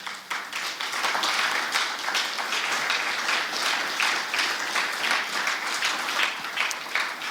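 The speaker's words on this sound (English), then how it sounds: "I hope we can give him a round of applause" An audience at an annual memorial lecture breaks into loud, sustained applause, many hands clapping in a dense, uneven patter that holds steady from start to finish.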